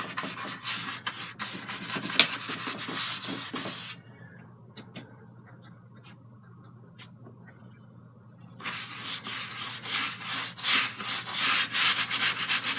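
A brush scrubs paint onto a canvas for a sunset sea painting, a close rhythmic rasping that runs in strong bursts, pauses into near quiet for several seconds, then resumes in rapid repeated strokes.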